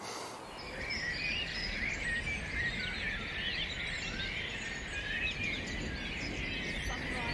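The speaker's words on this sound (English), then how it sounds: "with a cacophony of bird song up above" Spring birdsong fills the air at Wild Cairn Hill, a site being restored to nature: many birds chirp and sing at once in a dense, steady chorus, close and continuous, with faint insect buzz beneath.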